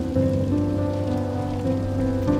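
White noise in a song imitating wind and rain on a windowsill, a steady broadband hiss of rain-like texture beneath sustained musical tones, loud and continuous throughout.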